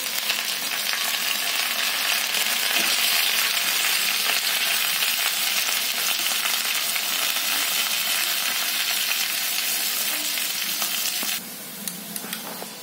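Cumin seeds and curry leaves fry in hot oil while tomato chutney is being made, giving a loud, steady, crackling sizzle that runs close and unbroken, with a few spoon clinks near the end as the sizzling drops away.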